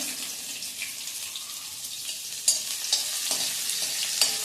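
Finely chopped onion frying in a pan for vermicelli upma, a soft steady sizzle broken by a few sharper scraping stirs, close and moderately quiet, with no talk.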